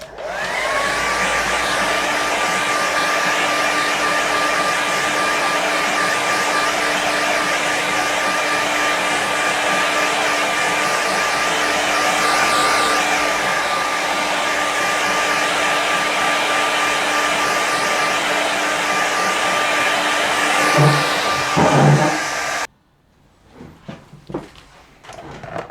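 A hair dryer dries a watercolour painting with a loud, steady whirring blast for about twenty-two seconds, then switches off, leaving a few faint clicks and handling sounds.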